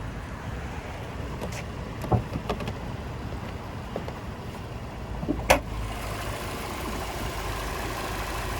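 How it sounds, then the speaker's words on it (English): A 2-liter engine in a 2019 Lexus UX 200 idles in a steady, low, even hum with no speech, broken only by a couple of faint clicks and knocks. "And there's a 2-liter motor there."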